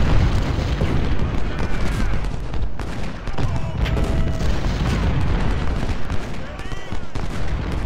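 Cannon fire from an American Civil War battle at Antietam in a strategy game, a dense barrage of booming shots and crackling volleys. The firing rolls on continuously and loudly, with a voice speaking over it.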